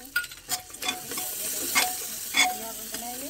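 Goat lungs frying in a pan with Kashmiri chili, green chilies, salt and coriander, a steady sizzle broken by repeated scraping stirs of a spoon, close and alone.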